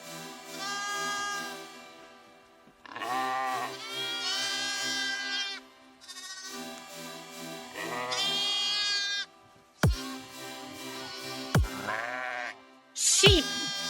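Several loud, close sheep bleats in separate wavering calls, with short pauses between them and a few sharp clicks near the end.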